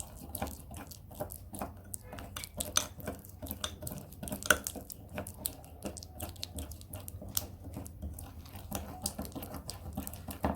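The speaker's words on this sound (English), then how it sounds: "Then I'll now mix thoroughly." A spoon stirs a thick brown sugar body scrub in a bowl, giving repeated soft scrapes and light clinks with a wet, gritty texture, close and continuous for several seconds.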